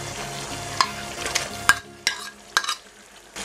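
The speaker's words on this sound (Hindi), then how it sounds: "इसमें अब हम ऐड कर लेंगे हमारी फिश।" Fish being added and stirred into a simmering yogurt gravy in a pan, several sharp clinks and scrapes of a spoon over a low bubbling hiss that drops away near the end, close with no talk.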